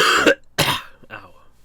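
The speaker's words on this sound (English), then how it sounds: "I felt a cough coming out" A person gives two quick, close coughs or throat clearings, followed by a fainter, softer one.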